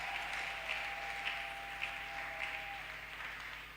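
Congregation applauding in a church, a steady wash of clapping from many hands at a moderate distance with a faint sustained tone underneath.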